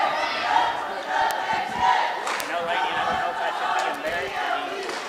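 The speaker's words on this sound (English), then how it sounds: "Got the cheerleaders out here and cheering on our Comets." Cheerleaders and a crowd cheer at a junior varsity high school basketball game in a gym, a steady, echoing roar of voices and chants without pause.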